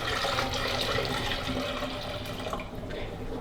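Descaling solution pours from a saucepan down a sink in a loud, continuous splashing gush of water that lasts the whole moment.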